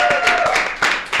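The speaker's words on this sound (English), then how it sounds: "we all deserve a round of applause" Brief burst of audience clapping at a Black Women's Equal Pay Day event, a few loud, close claps and cheers over roughly a second.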